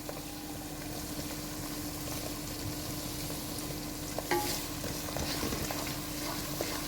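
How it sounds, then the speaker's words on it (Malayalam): Garlic, chillies and curry leaves sauté in oil in a pan for lemon pickle, a steady soft sizzle with faint bubbling and occasional stirring clatter, close but quiet. "വെളുത്തുള്ളിയിട്ട് നന്നായിട്ട് ഒന്ന് വഴറ്റാം മുളകിടാം ഇനി കറിവേപ്പില ഇടാം"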